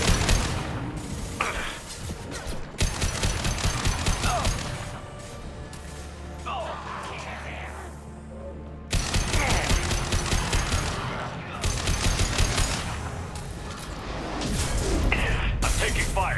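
Sustained bursts of rapid gunfire and heavy impacts fill a firefight in the video game Mass Effect 2, loud and continuous with short lulls between volleys.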